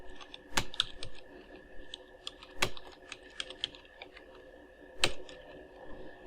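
Soft, close computer keyboard typing of a name in capital letters, irregular keystrokes with a few sharper, louder taps standing out over a faint background hum, no talk.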